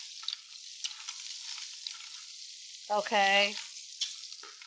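Lobster shells sizzle and fry steadily in a hot pot, a continuous crackling hiss that carries through the whole stretch, briefly joined by a short spoken word midway.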